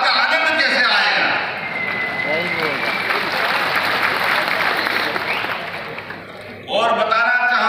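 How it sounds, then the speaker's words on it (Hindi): An audience at a political speech bursts into sustained applause, a dense wash of clapping that swells and then fades, with a voice speaking before and after it. "जब ताली बजाओ तो दिल से बजाओ"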